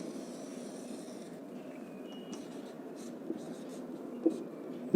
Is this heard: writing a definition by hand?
yes